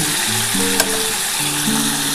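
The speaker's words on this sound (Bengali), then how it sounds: "আমার কিন্তু চিংড়ি মাছটা ভাজা হয়ে গেছে। আমি এবার নামিয়ে নিচ্ছি।" Prawns fry in hot oil in a pan for a Bengali-style potato prawn curry, a loud, close, continuous sizzle with faint scraping and clinking of a spatula as they are stirred and lifted out; no voices.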